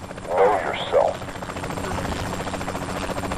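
A helicopter in the video game Saints Row: The Third gives a steady low rotor chop that runs throughout, while a voice talks briefly at the start over it.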